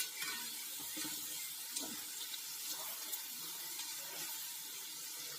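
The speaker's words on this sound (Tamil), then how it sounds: "அப்படியே நல்லா பொரியட்டும்" A steady hissing sizzle of potato fritters (pakoda) frying in hot oil, with occasional soft pops and bubbles, fairly quiet and without voices.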